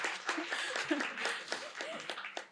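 Scattered audience clapping for a team at a partnership event, brief and moderately loud, mixed with some cheering and chatter from the crowd.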